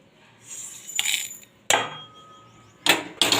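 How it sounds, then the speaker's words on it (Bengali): Dry-roasted, fragrant spices are pounded in a metal mortar and pestle, giving four sharp, ringing metallic strikes at an uneven pace, close and clear with no talking. "মশলাটা হামাল দিস্তাতে করে আমি গুঁড়ো করে নেব"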